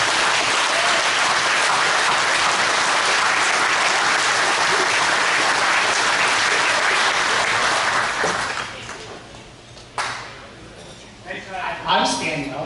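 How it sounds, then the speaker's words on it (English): A rugby club anniversary gala crowd gives loud, sustained applause that fades over the last few seconds into scattered claps and chatter. "Let's give a round of applause for those rookies"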